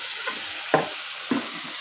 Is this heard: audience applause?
no